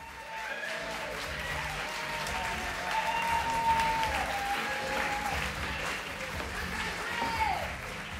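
Sustained audience applause in a Berlin theater as queer art performers take their bow, a steady wash of many hands clapping at moderate volume, with a voice speaking over it.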